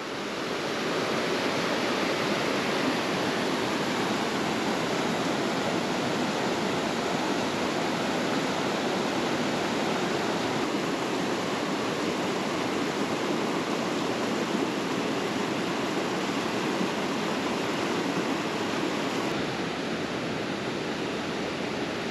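A mountain stream rushes continuously near a trail crossing in Wild Basin, Rocky Mountain National Park, a loud, steady broadband roar of flowing water with no voices.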